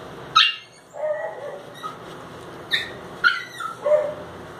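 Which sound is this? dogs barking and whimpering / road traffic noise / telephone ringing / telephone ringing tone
dogs barking and whimpering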